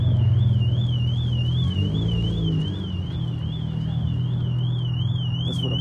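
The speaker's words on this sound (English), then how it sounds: "That's what a Porsche alarm sounds like." A Porsche car alarm wails with a loud, continuous warbling siren that rises and falls steadily, heard outdoors over a deep engine rumble throughout.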